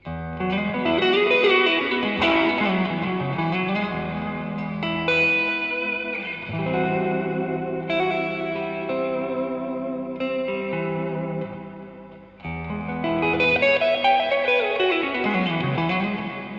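Sustained electric guitar chords ring out with lush reverb tails from a NUX NDD-7 pedal, delay off, played in several phrases with brief dips between them, loud and close.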